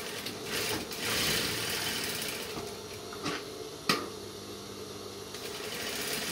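Sewing machine stitching along the edge of a fabric side pocket, a steady mechanical whir running throughout at moderate level, with a few sharp clicks and a brief louder tap partway through.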